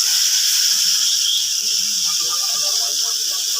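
Spice masala sizzling steadily in a hot pan just after a little water is added, a continuous loud hiss without pauses.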